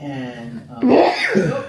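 A single sharp sneeze bursts out after brief speech in a quiet home conversation about condo living, loud and close, followed by a short vocal exclamation.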